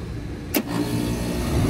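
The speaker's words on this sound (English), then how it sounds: "my blower just turned on" An HVAC blower motor switching on in a system being tested for high refrigerant pressure, a brief click followed by a steady, close whooshing hum of moving air that holds even to the end, with no voices.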